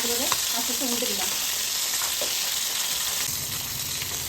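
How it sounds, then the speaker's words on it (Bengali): Bata fish pieces frying in oil in a pan after being flipped, a loud close continuous sizzle with a few scraping stirs at the start and steady bubbling throughout. "আর এক পাশ ভাজার জন্য মাছগুলোকে আস্তে আস্তে উল্টে দিলাম।"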